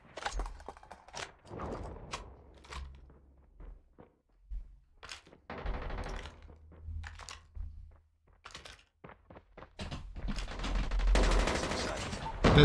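Gunfire in a multiplayer shooter game comes in sharp, scattered bursts and single shots, building into denser, louder rapid fire toward the end, with occasional voices between the shots.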